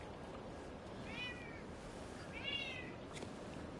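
Two drawn-out cat meows sound faintly in the Silent Hill f game, spaced about a second apart over a steady hissing background.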